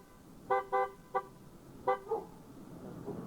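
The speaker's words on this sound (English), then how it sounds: "Hey, honk your horn. Let me hear the horn." A car horn gives several short honks near the listener, two quick toots, a single one, then two more, each clear and bright over a quiet background.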